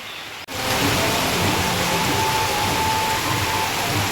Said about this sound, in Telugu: మన ఏ ఫ్లెక్సీని వర్షం ఎట్లా పడుతుందో ఫ్రెండ్స్